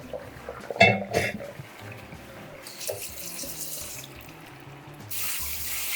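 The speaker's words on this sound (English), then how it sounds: "just rinse them with cold water" Cold tap water runs steadily into a sink to rinse noodles, with a few clatters and splashes early on and a louder gush of flow near the end.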